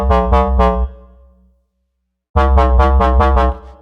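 FM synth square bass with its modulator tuned exactly one octave above the first operator plays a few short, punchy buzzing notes. A gap of silence follows, then a faster run of repeated stabs.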